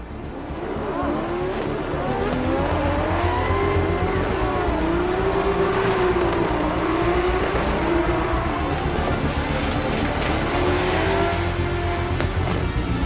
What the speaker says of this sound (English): tandem drifting from both parties up until the 4th sector